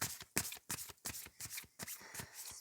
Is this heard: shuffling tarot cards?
yes